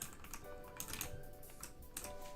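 Quiet clicking of keys on a computer keyboard comes in uneven bursts of taps, faint and close, with a faint steady tone behind.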